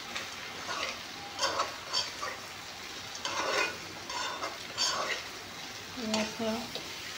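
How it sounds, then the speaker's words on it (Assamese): Meat sizzles and is stirred in a pan together with ash gourd and boiled potato, a steady frying hiss broken by scraping stirs, with faint speech and a few pan clinks toward the end. "কোমোৰা আলু দি ধুনীয়াকৈ মাংসখিনি ভাজি ল'লোঁ"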